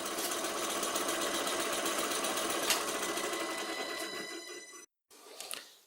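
A vintage bench lathe turns a wood blank, humming with a steady mechanical whir and a faint knocking as a side branch strikes the chisel, then cuts off abruptly and briefly restarts.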